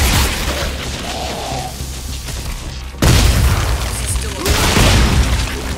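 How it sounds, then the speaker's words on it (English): Loud shotgun blast in the sci-fi horror video game Dead Space 3, a booming hit amid dense game noise and music, with a second heavy impact later. "Boom. Shotgun."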